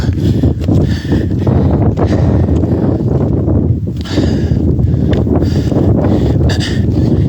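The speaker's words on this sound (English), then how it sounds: "It's windy today" Strong, steady wind buffeting the microphone on a hiking trail, with rumbling gusts that rise and fall throughout and no talking.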